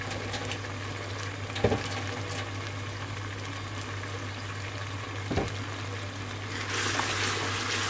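A steady low sizzle of chicken curry base frying in a pan, with a mains hum underneath, two soft knocks of a spoon and a brighter surge of sizzling near the end.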